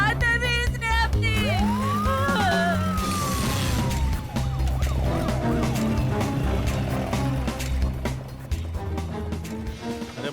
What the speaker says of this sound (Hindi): अरे मनी, तुमने दो एम्बुलेंस को फोन किया था क्या?